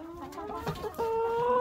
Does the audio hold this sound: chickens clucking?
yes